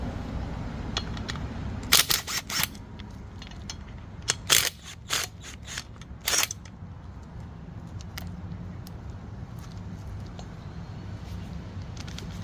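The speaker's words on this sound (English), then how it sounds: "we remove these 14mm bolts to separate the caliper from the bracket" A ratchet works loose the 14mm brake caliper bolts on a 2009-2014 Ford F-150 3.7L. Several sharp clicking bursts ring out early, then quieter ratcheting continues over a steady background hum.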